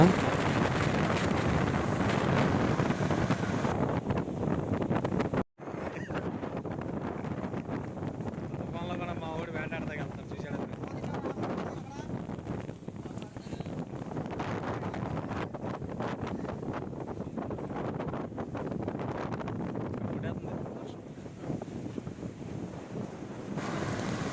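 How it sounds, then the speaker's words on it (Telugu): Strong cyclone wind roars continuously and buffets the microphone, with water splashing underneath as fishermen set out, and a brief drop-out partway through. "బీభత్సమైన గాలి వేస్తుంది."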